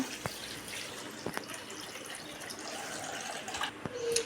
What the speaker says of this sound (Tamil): இப்போ நம்ம எடுத்து வச்சுருக்க தேங்காய் பாலை சேர்த்துக்கலாம்